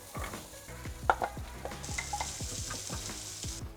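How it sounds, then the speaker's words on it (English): Carrot, garlic and cauliflower florets sautéing in a pan give a gentle sizzle, with frequent light clicks and scrapes as a utensil stirs them, close and fairly quiet. "So saute these three ingredients for about 5 minutes until they're just starting to go soft."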